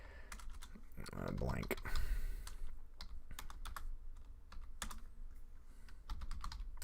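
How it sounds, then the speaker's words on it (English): Computer keyboard typing during a Python programming livestream, rapid clustered keystrokes heard close and fairly loud, running under and between a person speaking. "And that's a lot of typing to get a blank."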